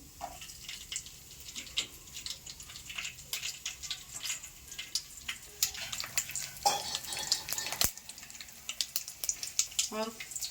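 Cumin and garlic frying in a pan for onion tamarind rasam, a soft continuous sizzle with scattered stirring clicks and scrapes, fairly quiet and close.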